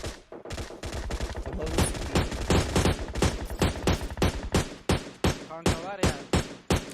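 Gunfire in the mobile battle-royale game PUBG Mobile, rapid bursts of automatic shots fired in quick succession, loud and close, with the bursts growing sparser and more spaced out toward the end.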